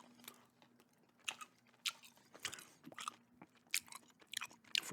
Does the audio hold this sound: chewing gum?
yes